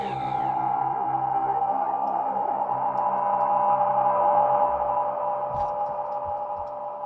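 Strange synthesized sound effects from a Hydrasynth synthesizer, a loud, sustained, droning tone layered with shifting harmonics and a low hum. It plays steadily for several seconds with no one speaking.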